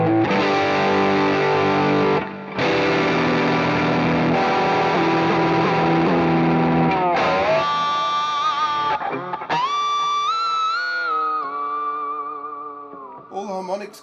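Electric guitar played through a Fractal Audio Axe-Fx II, dense sustained chords at first, then gliding, pitch-bending high tones in a whale song effect that swoop and wail, loud and continuous with brief breaks.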